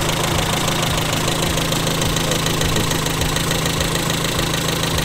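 A 1984 Honda Civic engine idles steadily, a loud, close, even rumble with a constant hum and a fast mechanical patter that runs unbroken the whole time, with no voices.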